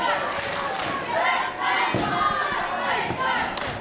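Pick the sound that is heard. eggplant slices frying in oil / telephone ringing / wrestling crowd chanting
wrestling crowd chanting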